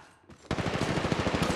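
Rapid automatic gunfire in the mobile battle royale game Apex Legends Mobile starts after a brief quiet moment, then runs as a steady, loud, evenly spaced stream of shots until the end.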